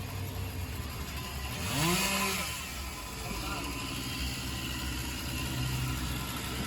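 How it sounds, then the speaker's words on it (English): A Stihl MS461 chainsaw cutting down a large palm tree idles quietly at a distance, then revs up briefly in one rising and falling surge before settling back to a low running drone. "this Stihl MS461 is their favorite saw for cutting down a tree"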